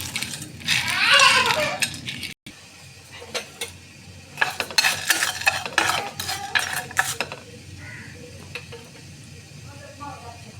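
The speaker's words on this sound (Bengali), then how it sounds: "এলাচ দারুচিনি লবঙ্গ গোলমরিচ জাইফল বিরিয়ানির মশলাগুলো একটা একটা করে সব ভেজে নিচ্ছি" Whole biryani spices (cardamom, cinnamon, cloves, black pepper and nutmeg) dry-roasting in a pan, heard as close clinking and rattling of spices and a utensil stirring against metal, with no voice over it.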